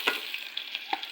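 Octopus sautéed with spices in oil for adobo, a short close sizzle with a few sharp crackles and pops, no talk.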